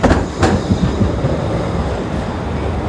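A tram rolls along rails through a busy city street, its steady rumble and wheel clatter loud and close throughout, with a couple of sharp metallic clanks near the start.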